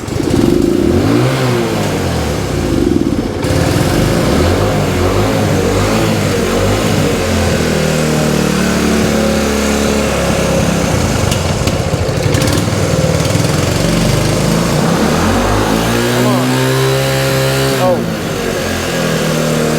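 A 1966 Honda S90 motorcycle with a sticky throttle runs loud and close, its small engine revving up and down in repeated surges, with a voice talking over it.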